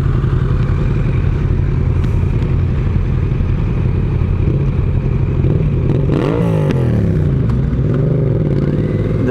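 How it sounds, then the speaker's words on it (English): Motorcycle exhaust fitted with a decibel killer, idling and lightly blipped at close range with a steady rumbling tone and a brief rev partway through, no talking. "That's the sound with his decibel killer in his exhaust."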